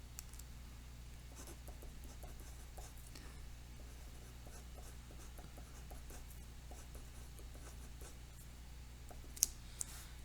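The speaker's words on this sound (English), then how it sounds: "let's write down the formula if you want" A pencil writes on paper close by, with quiet scratching strokes and small taps in an irregular rhythm over a low steady hum, faint and without talk.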